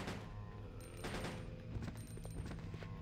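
Gunfire in Resident Evil: Code Veronica X, rapid repeated shots in a fairly quiet, steady volley with clattering bursts and no talking.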